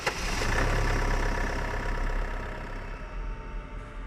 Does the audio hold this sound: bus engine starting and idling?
yes